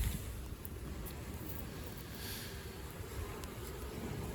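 Honey bees buzzing around a small mini nuc hive, a faint, steady hum of many insects close by, continuous and unbroken with no talking.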